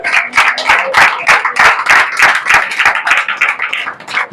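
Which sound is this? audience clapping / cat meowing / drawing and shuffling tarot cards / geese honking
audience clapping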